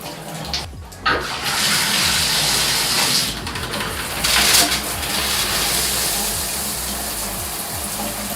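Water runs hard through an Aqua Home Group 20-stage shower head filter, a loud, continuous gushing spray that stays steady for several seconds, briefly cutting out near the start.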